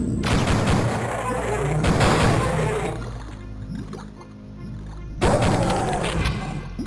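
Pistol shots crack out in Duke Nukem 3D inside a toxic dump level, a few loud sharp reports spaced apart amid game ambience and echoing impacts.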